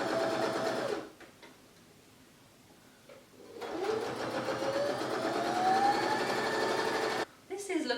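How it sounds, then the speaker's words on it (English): Domestic sewing machine top stitching fabric with a steady, fast mechanical whir over several seconds, pausing briefly between runs, with someone talking nearby. "Right, I've top stitched that."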